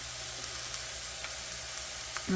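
Meat browning in a pan for taquitos, a steady close sizzle with faint scraping ticks, ending in a brief louder clatter.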